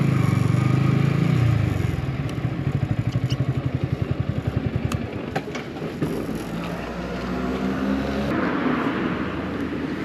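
A motorbike engine runs steadily at night on the streets of Colombo, cruising smoothly in sixth gear, with a rhythmic pulsing drone and passing road noise throughout, and no voices.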